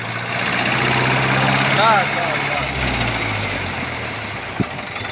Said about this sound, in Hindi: महिंद्रा ट्रैक्टर की तो आवाज ही अलग होती है।